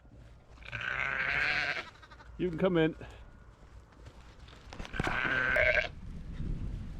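Sheep bleat repeatedly on a livestock farm, loud and close, with a few calls spread across the stretch, mixed with footsteps and someone speaking briefly.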